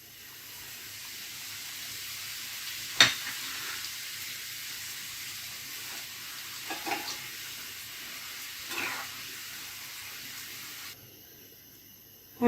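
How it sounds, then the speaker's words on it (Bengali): Samosa pastry sheets fry in hot oil with a steady, close hiss and sizzle, broken by a few sharper pops and crackles, with no voices. "বাকি শিটগুলো আমি একইভাবে ভেজে নেব।"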